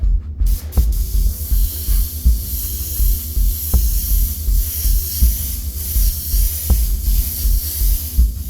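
An airbrush sprays Createx Candy2O poison green paint, a steady, close hiss that runs the whole time with a few faint clicks along the way.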